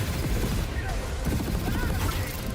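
Dense, continuous burst of machine gun fire from a video game trailer, loud and sustained across the whole stretch, with rapid overlapping shots and crashing impacts and no pause.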